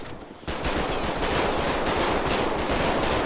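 Gunfire in the GTA V roleplay game, a dense, continuous barrage of rapid automatic shots that breaks in suddenly and stays loud and unbroken to the end.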